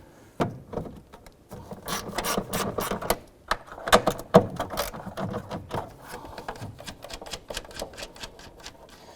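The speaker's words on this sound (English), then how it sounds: "I'm going to go ahead and remove the nuts on these studs" Nuts come off the studs of a 2006–2010 Honda Civic tail light, heard as a steady run of sharp ratcheting clicks and metallic taps up close, with no talking.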